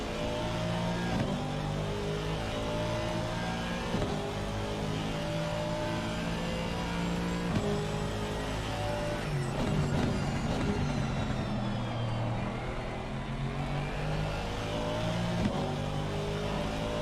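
Race cars in Assetto Corsa Competizione at Watkins Glen, loud engines revving through the gears with harmonic whine rising and falling, several shifts and a close car passing, steady and without talking.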